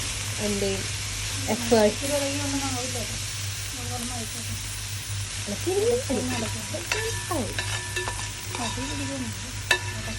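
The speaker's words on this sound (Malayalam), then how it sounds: "ഞാനും കുറച്ച് ഇളക്കട്ടെ" Food frying in a pan for a homestyle Kerala dish is stirred, a steady loud sizzle with scraping spoon strokes close by, while voices talk over it.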